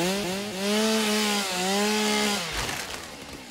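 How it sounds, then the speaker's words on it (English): A chainsaw in the video game Satisfactory runs with a steady, buzzing motor whine whose pitch dips and rises as it cuts, loud and continuous before trailing into rougher noise. "Chainsaw's getting a little old."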